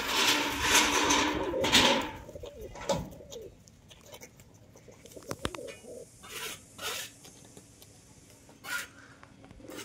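Rajshahi Giribaz pigeons coo and flutter close by in irregular bursts, loudest at the start, with scattered knocks and rustles in between.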